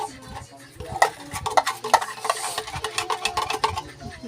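A spoon stirring fruit salad in a bowl, with quick repeated scraping and clinking strokes in an uneven rhythm, close and fairly loud, with occasional faint voices.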